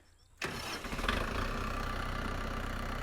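A tractor engine starts up and then idles steadily and loudly up close, with a low continuous rumble; the tractor is hitched to a wagon loaded with hay bales.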